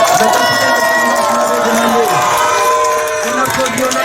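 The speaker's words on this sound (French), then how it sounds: "On applaudit très très fort" Crowd at the trophy presentation of a neighbourhood inter-sector football tournament final in Fadi, cheering and clapping loudly and continuously throughout, with voices shouting in the mix.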